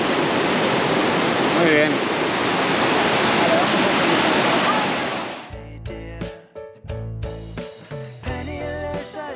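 The main waterfall at Monasterio de Piedra roars as a loud, continuous wash of falling water for about five seconds, then cuts to music as a voice speaks briefly.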